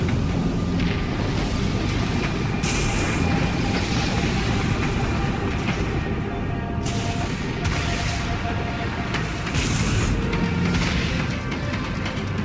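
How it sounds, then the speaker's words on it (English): Vulture missiles launch in the space-combat game Dreadnought, loud rushing booms and blasts layered over a constant deep engine rumble, with several bursts swelling through the scene. "Launching Vulture missiles."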